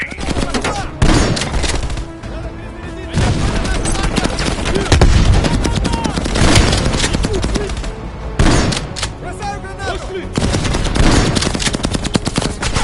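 Loud machine gun fire in a Call of Duty Black Ops Cold War battle, long rapid bursts broken by short lulls, with heavy booms and a voice occasionally cutting through the chaos.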